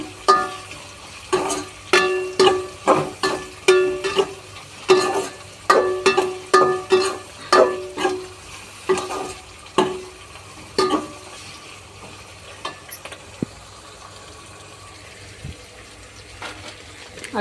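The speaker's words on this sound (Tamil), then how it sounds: "எல்லாமே அழகாக எண்ணெயிலே பொரியுது பாருங்க." Spices and bitter gourd pieces crackle and pop in hot oil for a spicy kara kuzhambu, a quick run of sharp bursts and sizzles that thins out to a faint scattered crackle toward the end.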